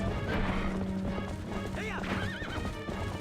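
Horse hooves clip-clopping with repeated whinnies and neighs in Zelda Twilight Princess, the game audio loud and busy with a crash-like hit mixed in, continuous over about three seconds.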